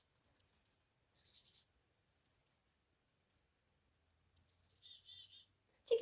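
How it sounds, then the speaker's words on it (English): Several bursts of small songbird calls, chickadees among them, come as short high chirps and tweets in quick clusters with brief pauses between, fairly clear against a quiet background. "Yeah, that has some chickadee sounds in it."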